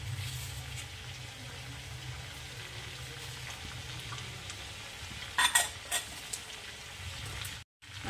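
Colourful mixed vegetables stirred in a pan over a low, steady sizzle. A few brief scraping clacks come near the end, followed by a short drop into silence.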